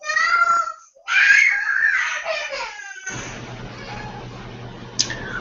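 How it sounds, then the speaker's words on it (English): A small child screams and wails in the background, long rising cries in two bursts before giving way to a low steady room hum with a faint click near the end. "I apologize if you hear a screaming kid in the background"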